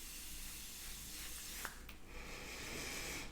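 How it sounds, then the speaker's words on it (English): A Chanel Hydra Beauty Essence Mist is sprayed onto skin, giving a soft, steady airy hiss close by with a couple of faint clicks from the nozzle partway through and no voices. "So I'm going into my Chanel Hydra Beauty Essence Mist."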